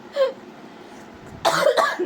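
A short cough, then after a pause a louder double cough close by.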